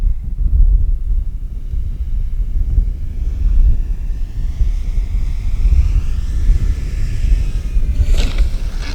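An HSD Jets RC Cessna 182 model plane comes in to land without flaps, its motor a faint distant whine over steady low wind rumble, with a brief brighter rush near the end.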